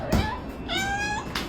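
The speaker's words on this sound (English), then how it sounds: "Who's the meanest kitty of all?" A house cat gives a short, soft meow, then a second slightly longer, rising meow a moment later, heard fairly close with no talking.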